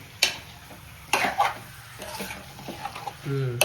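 Chicken curry stirred in a pan, with a few sharp scrapes of a spoon against the metal over a soft sizzle and a faint background hum.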